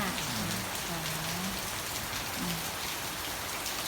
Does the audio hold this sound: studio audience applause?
no